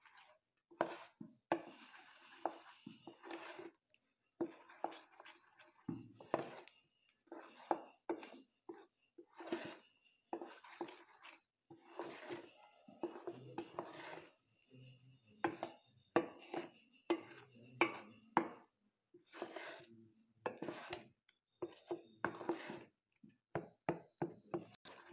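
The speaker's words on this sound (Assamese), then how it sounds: "এইখিনিতে আমি ভালদৰে মিক্স কৰি দিম।" Cake batter with coffee is mixed by hand in a bowl, giving soft irregular bursts of scraping and tapping that come and go, with faint speech in places.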